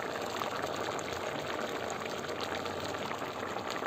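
Broad bean broth boiling hard in a pot, a steady close bubbling and rolling seethe that holds even throughout with no talking.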